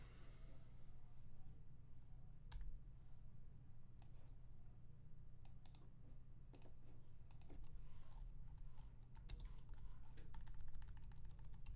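Steady typing on a computer keyboard during a coding session, with irregular clusters of clicking keystrokes over a constant low hum, close and fairly quiet throughout.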